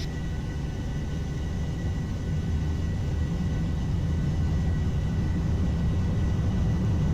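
Boeing 737-800 jet engines spooling at takeoff thrust in a flight simulator, a loud steady roar with deep rumble holding evenly throughout, no talk.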